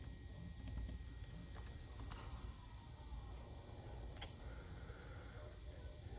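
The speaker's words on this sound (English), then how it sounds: "So we're going to type that in." Keystrokes on a computer keyboard while a website address is entered, heard as scattered faint clicks in small bursts over a steady low background hum.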